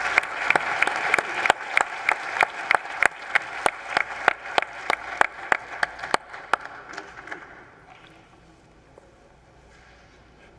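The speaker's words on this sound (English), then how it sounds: "A round of applause for all of our speakers" Audience applause after a panel discussion at a summit, a steady burst of clapping from a sizable crowd lasting several seconds before tapering off into quiet room tone.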